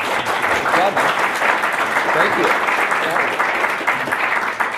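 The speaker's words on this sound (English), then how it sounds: "I'd like to give a big round of applause for our panelists" An audience claps steadily for the panelists at a conference, a dense wash of applause with a voice briefly speaking over it.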